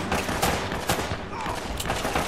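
Gunfire rings out in the video game Uncharted: Drake's Fortune as rapid, overlapping bursts of loud shots that crack repeatedly for a couple of seconds with no voices.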